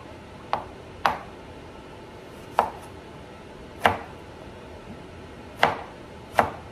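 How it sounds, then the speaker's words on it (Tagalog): A knife chops lemon on a cutting board for pork nilaga, giving six sharp, separate knocks at uneven intervals, close and clear, with no talking. "I-chop ko lang siya."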